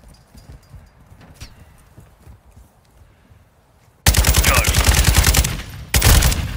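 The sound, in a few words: shotgun fire in video game Call of Duty Modern Warfare 2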